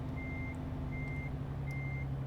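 A truck in Euro Truck Simulator 2 sounds its reversing alarm, three evenly spaced beeps over a low, steady engine drone.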